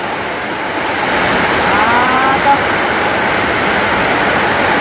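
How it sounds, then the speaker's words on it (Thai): Heavy early-morning rain pours steadily in a broad, loud hiss, a continuous wash with no breaks, and a faint voice sits low underneath. "ฝนตกแล้วบาดนี้เนาะ ฝนตกลัดเช้า"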